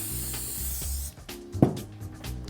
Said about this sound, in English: Give a nice even coat of spray adhesive to the board.